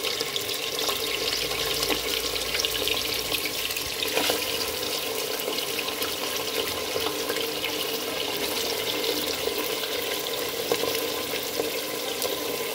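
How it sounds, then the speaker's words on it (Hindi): Meat sizzles in hot oil in a pan, making a steady, dense hiss that stays even throughout with faint crackles and pops, heard close and alone. "अब मैं इसमें सबसे पहले गोश्त ऐड करूँगी और इसको अच्छी तरह से भून लूँगी।"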